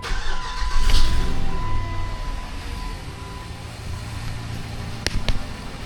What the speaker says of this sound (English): Let's fire it up, make sure she breathes.